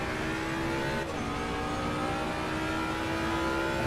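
Ford Mustang GT3 race car in Assetto Corsa Competizione at Imola, engine pulling hard under throttle as a dense, continuous roar with a slight hitch early on, no voices over it.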